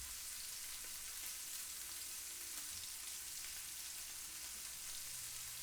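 Steak sears in a hot pan with a steady, hissing sizzle, a continuous crackling spatter heard close and alone, with no pauses in the frying.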